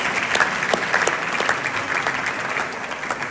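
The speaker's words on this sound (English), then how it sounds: "Yes, give him a clap." A congregation at a sermon applauds, a steady burst of many hands clapping with sharper individual claps poking through, moderately loud and close, with no speech over it.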